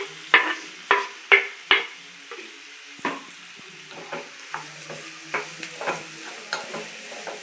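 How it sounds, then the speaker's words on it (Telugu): Onions frying in hot oil for a spicy chicken curry, a soft sizzle under a series of distinct spatula scrapes and taps against the pan, rhythmic at first and then more spaced out, with no talking. "ఉల్లిపాయలు వేసుకొని ఉల్లిపాయలు బాగా ఫ్రై చేసుకోండి"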